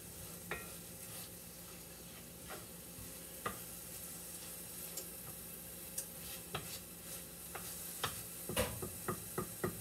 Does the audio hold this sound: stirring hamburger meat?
yes